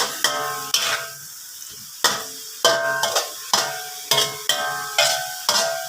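Bean sprouts and tofu stir-fried in a pan, with repeated sharp scraping and clanking strokes of a spatula every half second or so over a steady sizzle, close and loud with no voices.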